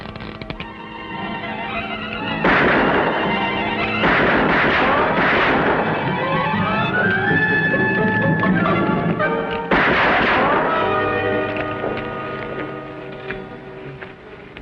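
Gunshots ring out during target shooting in a classic Western TV episode, several loud booming reports spaced a few seconds apart over a sustained tonal background.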